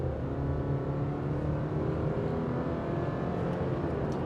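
2024 Subaru Crosstrek with a naturally aspirated 4-cylinder engine accelerating on the road, a steady droning engine hum heard from inside the cabin, moderately loud and continuous.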